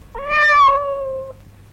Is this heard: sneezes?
no